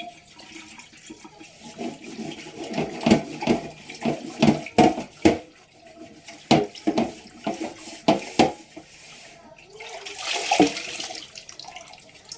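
Water runs in a kitchen sink while food leftovers are rinsed off dishes, with repeated clinks and knocks of dishware over the steady splashing, close by.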